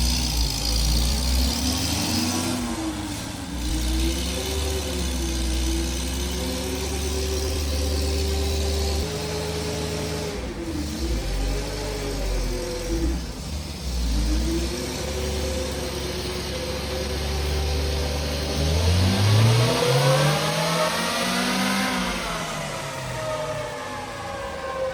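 A 1980 MG engine runs up on a dyno, its harmonic whine sweeping up and down in repeated rev climbs, loud and steady for most of the run, with a final strong surge near the end.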